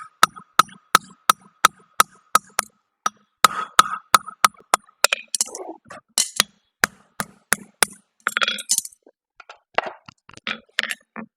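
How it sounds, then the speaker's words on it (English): Hammer blows forging steel on an anvil, a rapid regular train of sharp ringing metallic strikes close by, with bursts of scraping and clattering between the blows. "Overlapping hammer blows."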